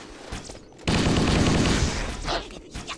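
Gunfire in Halo: Combat Evolved, a sudden burst of rapid shots with a dense crackling roar lasting about a second, then trailing off into a few quieter pops.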